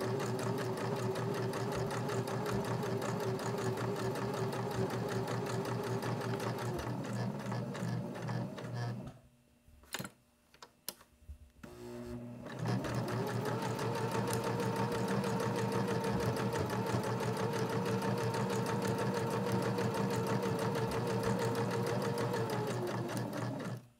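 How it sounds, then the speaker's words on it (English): A sewing machine stitches a fabric soap holder with elastic, running as a loud, steady, close whir that stops briefly for a corner turn, with a few faint clicks, then starts again and keeps going. "We leave our needle down, lift our presser foot, turn, and just keep going."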